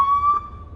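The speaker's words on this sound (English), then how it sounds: "and then the sirens." A Feniex Typhoon siren on a 2018 Ford F150 Lariat gives a short, loud, steady electronic tone that cuts off after under half a second, leaving a faint hum.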